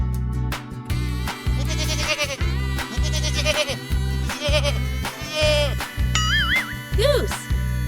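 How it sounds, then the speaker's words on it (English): A goat bleats several times close by in wavering cries, mixed with further bleats from sheep or young goats and a chopped, repeating low-pitched backing beat. "Goat. This is goat."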